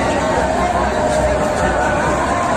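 A dense crowd of many thousands mills around a Durga Puja pandal at Bakri Bazar in Ranchi, a steady, loud wash of overlapping voices and murmur with no pauses.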